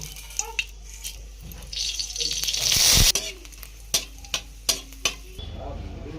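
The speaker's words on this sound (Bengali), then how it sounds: "ফোড়নের জন্য তেজপাতা, জিরে, শুকনো লঙ্কা, লবঙ্গ, দারচিনি, এলাচ দিয়ে দেব" Bay leaf, cumin, dried chilli, clove, cinnamon and cardamom crackle in hot oil for a vegetarian cauliflower curry. A rising hiss of sizzling builds to a loud peak, then a spoon scrapes and clinks against the pan in a steady stirring rhythm.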